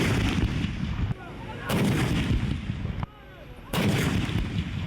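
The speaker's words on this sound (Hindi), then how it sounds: "लाहौर में दिन का आगाज़ पाक फौज की जानिब से महफूज शहीद गैरिजन में 21 तोपों की सलामी से हुआ।" Artillery guns of the Pakistan army fire a 21-gun salute at a garrison in Lahore, heard as loud, booming blasts about two seconds apart, each followed by a rumbling tail, with a quieter gap between them.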